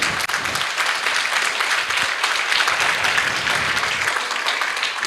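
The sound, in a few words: church congregation applause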